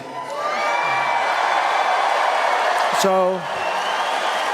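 Large crowd at a town hall in La Crosse, Wisconsin cheering and whooping loudly and steadily throughout, with a voice briefly speaking over it.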